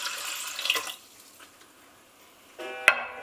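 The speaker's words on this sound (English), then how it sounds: "you're adding the same volume of water, cold tap water" Cold tap water pours into an Instant Pot holding long grain brown rice, a brief close splashing stream, then a quiet pause and a second short pour with a sharp splash.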